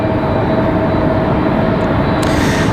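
A JetBlue Airbus A220 airliner taxis past the terminal at Raleigh-Durham airport, a loud, steady broadband engine roar holding evenly throughout without any talk.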